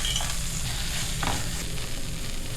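Thick date halwa being stirred in a pan after roasted cashews and raisins go in, a continuous close sizzle with a scraping stroke partway through, no talking.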